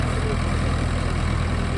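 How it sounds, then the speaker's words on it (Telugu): A driverless automatic tractor sprayer's engine runs steadily, a continuous low mechanical drone with a faint pulsing throb, moderately loud and unbroken throughout. "tractor spraying, automatic,"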